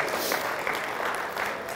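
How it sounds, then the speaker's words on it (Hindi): An audience at a spiritual astrology discourse claps steadily in a dense, even burst of applause that fills the short moment, with no voices over it. "उनके लिए एक तालियां बजा दीजिए"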